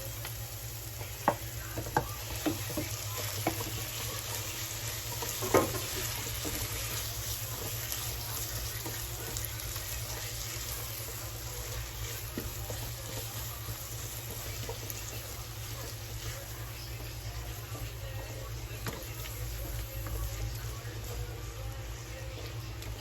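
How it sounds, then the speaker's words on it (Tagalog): Ground pork for pork picadillo sizzles steadily in a pan while a ladle stirs and scrapes it, giving a continuous close frying hiss with occasional clicks and a low hum underneath. "Sunod ko na ilagay ang ating giniling."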